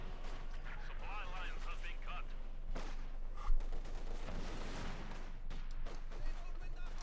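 Scattered gunfire and bursts from a Maxim machine gun in a Company of Heroes 2 battle between German OKW and Soviet forces, distant and mid-range shots crackling under continuous commentary.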